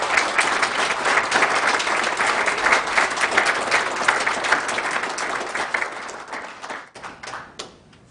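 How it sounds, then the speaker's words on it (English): Sustained applause from a city council meeting audience honoring 911 telecommunicators, steady dense clapping that thins and tapers toward the end. "So let's give them one more round of applause."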